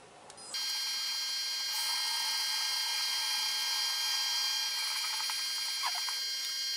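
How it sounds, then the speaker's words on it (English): A drill boring a quarter-inch hole into a bottle stopper blank held on a drill chuck mandrel, starting after half a second as a steady, close, high-pitched whine that runs on without a break. "So I'm ready to drill a quarter inch hole."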